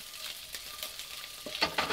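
Small chopped vegetables sizzle and fry in a pan while being cooked for rice, a continuous crackling hiss with a few louder spits and stirring scrapes toward the end.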